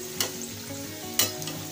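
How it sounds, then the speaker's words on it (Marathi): Sabudana vadas fry in hot oil, a continuous bubbling sizzle under a low hum, broken by two brief scraping turns of a spatula. "थोड्या थोड्या वेळाने हे वडे आपल्याला परतून घ्यायचे आहेत"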